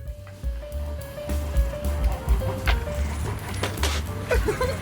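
A robot dog's metal feet scraping and clattering on a floor in an uneven rhythm of knocks and drags, with a steady tonal hum and some mechanical whine.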